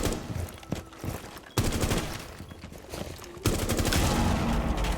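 Video game gunfire crackles in rapid bursts, with dense automatic volleys separated by brief pauses, loud and busy against background game noise.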